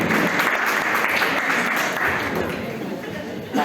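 A seated audience at a talk applauds itself in a loud, dense, sustained burst that fills the room, easing slightly toward the end.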